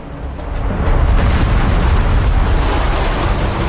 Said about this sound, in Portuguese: O vulcão Krakatoa explodiu